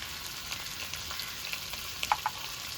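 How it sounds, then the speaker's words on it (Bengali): Potatoes coated in ginger-chilli paste, turmeric and salt fry in a pan for a katla fish curry, making a soft, faint sizzle with a few light clicks of stirring. "এবার নেড়ে চেড়ে আলুর সঙ্গে মশলাটাকে ভালো করে কষিয়ে নেব"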